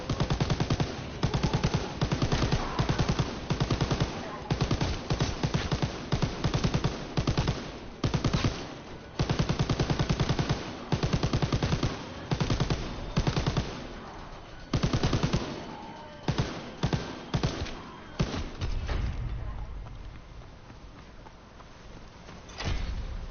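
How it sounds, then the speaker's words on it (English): Machine gun fire in a Darkest Shore video game, loud rapid bursts of automatic shots broken by short pauses, trailing off into quieter rumbling near the end. "You can jump on that machine gun!"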